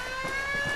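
An alarm sounds in the Ghost Recon: Wildlands video game, a steady electronic buzzing tone with bright harmonics that holds continuously through the short moment, with no voices.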